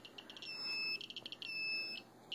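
A radiation meter beeps near radioactive dishes: rapid, fairly quiet high-pitched electronic chirps repeating in uneven bursts with steady tones between them, with no talking.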